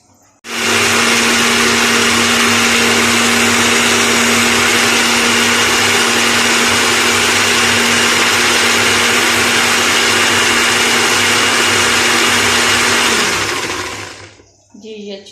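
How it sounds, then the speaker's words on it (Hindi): A kitchen blender whirring loudly and steadily as it purees banana for a homemade hair mask, starting abruptly, running about thirteen seconds at constant pitch, then winding down. "अब इसको अच्छे से ब्लेंड करते हैं।"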